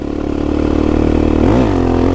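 A Honda Tornado motorcycle carrying a passenger runs with a loud, close, throbbing engine note, briefly revving up and dropping back before settling into a steady rumble.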